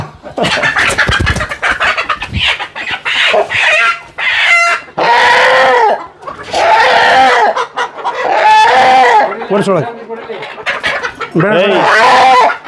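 Native country chickens (nati koli) at a roadside dhaba cluck and squawk loudly and close by in repeated drawn-out bursts, with a stretch of busy, overlapping noise at the start.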